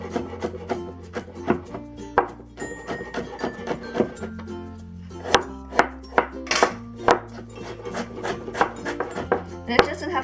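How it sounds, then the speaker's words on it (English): A knife mincing ginger and garlic together on a wooden cutting board for a Sichuan chicken stir fry, sharp close chops landing in an uneven rapid rhythm with brief pauses, a voice speaking at times. "next let's mince the ginger and garlic. I'm gonna mince it all together."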